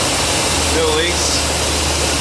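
A 4.7L V8 swapped into a 2002 Dodge Ram 1500 idles steadily with a low, constant hum and rumble, close and even throughout, with a voice speaking briefly over it.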